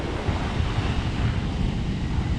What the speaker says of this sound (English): Waves are fairly large.